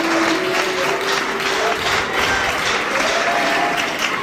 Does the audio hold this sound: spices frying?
no